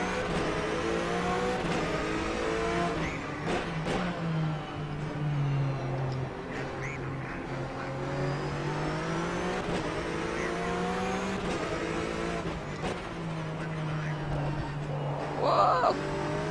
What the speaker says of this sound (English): I revved it too much.